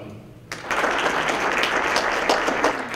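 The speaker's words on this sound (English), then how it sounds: "Audience members applaud the speech given at the Department of Elementary and Secondary Education's public hearing" An audience at a Department of Elementary and Secondary Education public hearing breaks into steady applause that starts suddenly and continues evenly, a dense crowd of clapping hands.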